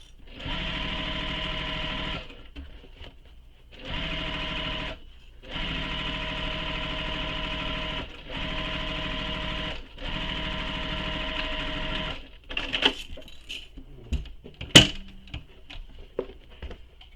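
A sewing machine stitches seams on a fabric shoulder bag in five steady bursts of a couple of seconds each, separated by short pauses, followed by softer handling clicks and taps near the end.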